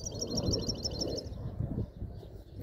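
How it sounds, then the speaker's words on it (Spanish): Bird in a perch-training session outdoors chirps in a repeated run of quick high notes over the first half, above a steady low rumble of background noise. "mira el pájaro"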